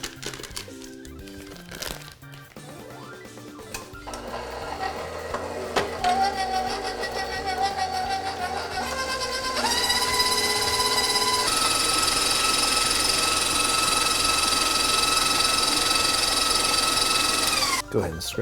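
A stand mixer whirs steadily as it blends peanut butter and butter for chocolate peanut butter truffles, with a motor hum that starts, shifts and rises in pitch, then cuts off near the end.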